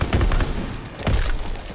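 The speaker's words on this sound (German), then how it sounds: "Auto explodiert noch." A car explodes in the video game Call of Duty: WWII, a loud, booming burst of explosive noise, a couple of heavy blasts close together with rumbling debris.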